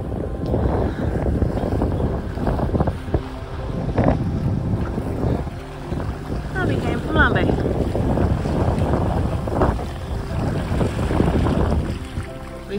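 A sailboat runs with wind and tide, steady wind buffeting the microphone over sloshing waves and hull noise, loud and continuous, with a voice speaking partly beneath it.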